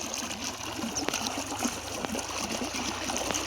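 Water pumped by a motor runs steadily along a field irrigation channel on a farm, a continuous close rushing trickle and splash with a few sharp clicks, and no voices.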